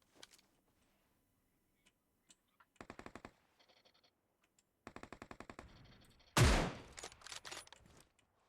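Gunfire in PUBG Mobile comes in two rapid automatic bursts of evenly spaced shots, followed by a loud, heavy blast and a scatter of trailing shots. There is near-silence between the bursts and no voices.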